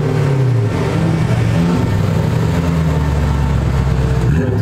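Toyota Soarer Vertex with a JZ engine, loud continuous revving and engine drone nearby at a drift event, with pitch shifting up and down throughout.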